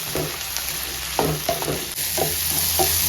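Onions and chopped tomatoes fry in a pan for a Kerala-style egg masala curry, a continuous close sizzle punctuated by several soft scraping stirs of a spoon, with no voices.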